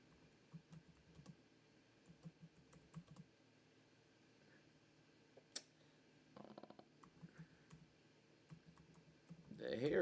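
Rapid, faint clicking of keys on a Bluetooth keyboard, typed in irregular bursts at close range, with a louder clatter near the end and a voice talking at times.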